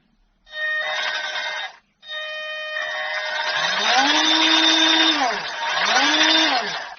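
A 1/12-scale 2.4G six-wheel-drive RC US Army military truck's electric motor whining under throttle in two bursts, the first brief, then a longer run with rising and falling pitch sweeps, close and fairly loud.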